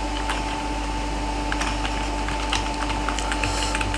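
Rapid keystrokes on a computer keyboard while HTML code is typed, steady and close over a constant electrical hum, with no talking.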